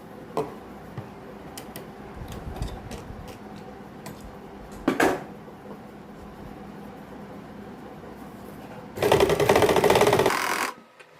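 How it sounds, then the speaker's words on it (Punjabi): A sewing machine runs in a short burst while stitching piping onto a garment neckline, preceded by scattered light ticks and handling clicks. "ਵੱਡੇ ਬੱਕੇ ਨੇ ਇੱਥੇ ਸਲਾਈ ਲਾ ਦੇਣੀ ਹੈ"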